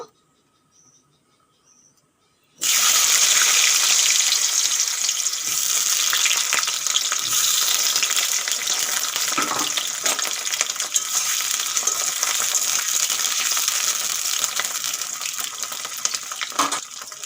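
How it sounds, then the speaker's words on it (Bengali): After a quiet start, potatoes hit hot oil in a wok and burst into a loud, dense, continuous sizzle that stays strong and close for the rest of the stretch, with no voices. "তেল গরম হয়ে গেছে আলুগুলো ভেজে নেব"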